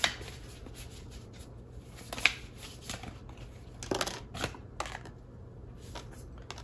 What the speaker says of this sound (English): I said I was going to shuffle on camera